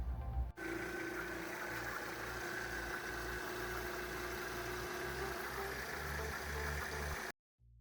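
A Mercedes 2.7 CDI OM612 diesel engine in a CLK W209 runs at idle. It makes a steady, close, low mechanical rumble with an even clatter that holds until a sudden cut to silence at the end.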